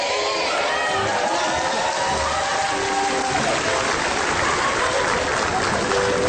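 Students in a comedy show's studio audience applaud, producing a loud, steady wash of dense clapping that lasts the whole stretch with no pause.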